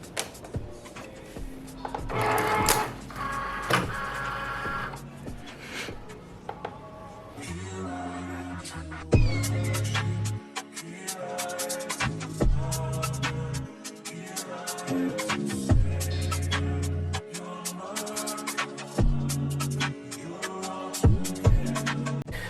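A Cricut Maker cuts heat transfer vinyl, its carriage motor whirring in irregular stop-start bursts with clicks and shifting pitches, close and moderately loud throughout with no talking.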